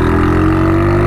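Steady, loud engine drone from a Hero Honda Splendor motorcycle converted into a car, humming close by with a constant low rumble and no talking over it.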